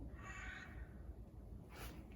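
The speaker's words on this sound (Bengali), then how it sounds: "কাকের ডাক শুনতে পাচ্ছেন, সকাল হচ্ছে," A crow caws a couple of times at moderate distance over a low, steady background rumble at early morning in rain, with no one speaking.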